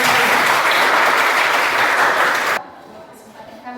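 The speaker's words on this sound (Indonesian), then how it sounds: "Berikan tepuk tangan untuk" Applause from a teacher-training class audience fills the room loudly and steadily, then stops abruptly near the end, leaving quiet room tone.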